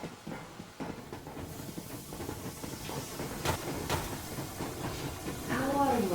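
The Yermak steam train from Metro Exodus chugs steadily at full steam, with rhythmic rail clatter and hissing building up in volume, and voices speaking over it.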